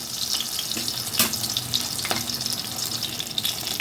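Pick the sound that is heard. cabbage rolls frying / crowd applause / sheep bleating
cabbage rolls frying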